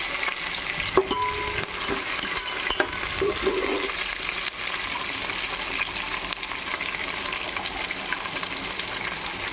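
Coriander and mint leaves frying with biryani spices for veg pulao, a close, steady sizzle under repeated stirring and scraping in the pan, a few sharp utensil knocks early on, no speech.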